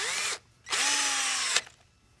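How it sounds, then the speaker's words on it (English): A power drill drives screws into a T-Rex post-and-beam connector fitted to a timber beam: two close, loud whirring bursts, a short one then a longer run ending in a sharp stop, with no talking. "Put a couple of screws in."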